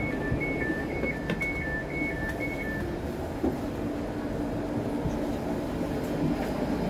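A Pendolino train passes with a steady rumbling roar and a few faint clicks from the track, heard from a moderate distance, while a short repeating electronic tone sounds early on.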